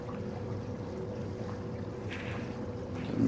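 Small motorboat pushing upstream at almost four knots with a kicker motor running, giving a steady engine drone and water wash with wind buffeting the microphone throughout, no talking.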